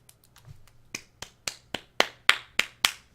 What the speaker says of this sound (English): Dr. Nakabachi enters to sparse applause